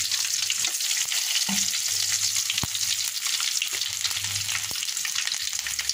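Chopped garlic frying in mustard oil gives a loud, steady sizzle up close, with a few sharp stirring clicks and no talking.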